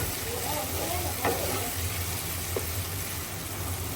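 Pre-fried potatoes are stirred into a pot of country chicken biryani, giving a steady low sizzle and hiss with a couple of soft scraping stirs.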